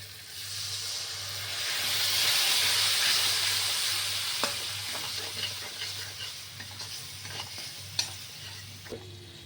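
Ground Kashmiri chili, turmeric, cumin, coriander and chili powder cook in a pan for a banana-flower and prawn curry; a little water is added, raising a hissing swell of steam, followed by steady sizzling and scattered spoon taps.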